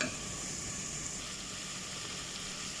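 Spiced masala sizzles steadily in a pan after a tablespoon of water is added, cooking for methi pulao; a continuous close hiss and crackle with no talk.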